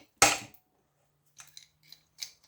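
Metal snips cut scrap brass and silver, starting with one loud, sharp snap and followed by several quieter clicks and crunches spaced over the next second.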